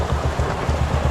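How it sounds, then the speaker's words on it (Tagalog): Heavy rain pours hard in a storm, a dense, loud, continuous hiss with pulsing low drumming on surfaces and no voices over it. "Ay, naulan na talaga."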